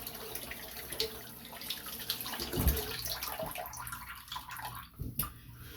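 Water running from a tap into a sink during a rinse after shaving, a soft steady splash with a few louder gurgles and drips near the end, no talk.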